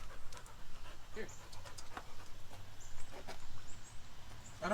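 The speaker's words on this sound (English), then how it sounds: "What kind of dog is this?" A dog pants in quick, steady breaths close by, with some faint background noise and scattered soft sounds.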